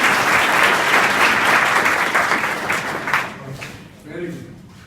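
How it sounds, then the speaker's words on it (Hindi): Class 11 and 12 students at an inter college clap loudly together, a dense roar of applause that fades out toward the end, followed by a voice speaking. "तो एक बार जोर से ताली बजाओ"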